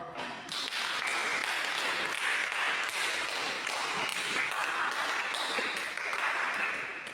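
A class claps together in a dense, continuous burst that runs steadily for several seconds at even loudness.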